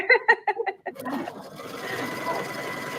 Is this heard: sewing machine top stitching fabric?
yes